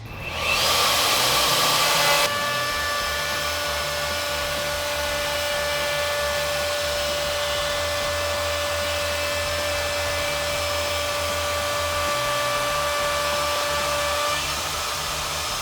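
A cheap one-star Lowe's power tool slices through plastic, a steady high-pitched whine with a brief louder burst at the start, then an even motor drone that holds for the rest of the cut.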